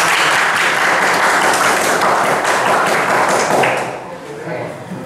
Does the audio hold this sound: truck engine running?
no